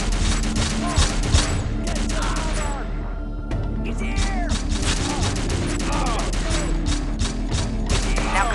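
Rapid mechanical gunfire from the mobile shooter Overkill 3 rattles in dense repeated bursts, with clicking weapon mechanisms and a short pause midway, loud and close.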